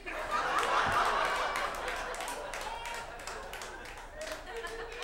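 A comedy club audience claps and chuckles, scattered hand claps mixed with laughter that fades to a lighter patter, heard at a distance in a lively room.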